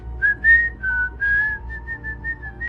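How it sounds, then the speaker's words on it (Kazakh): A person whistles a short, bright tune nearby, with clear melodic notes rising and falling; no talking. "Mickey Mouse сияқты ысқырып бастайды"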